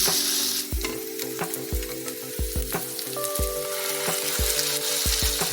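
Vegetables and sweet corn sauté in a pan for a sweet corn soup, a steady close sizzle broken by regular spoon knocks and scrapes as they are stirred, with no talking.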